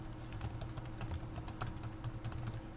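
Keys clatter on a computer keyboard in quick, irregular bursts of soft clicks, fairly close but quiet, with no voices over them.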